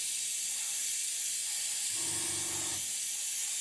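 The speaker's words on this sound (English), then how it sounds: "So I'm just going to spray some more white in there just to get some nice solid white colour" White spray paint hissing from a can onto a model mask, a steady soft hiss with a brief lower, fuller burst partway through.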